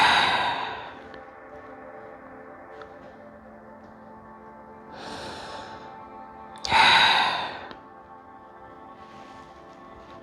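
Slow, deep breaths during a yoga practice come in three audible breathy swells spaced several seconds apart, close to the microphone over a soft tonal music bed, with no talking.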